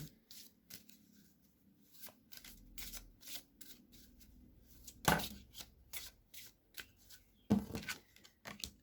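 Oracle cards being shuffled by hand, a series of soft riffling bursts and crisp card slaps at irregular intervals, close and clear against a quiet room.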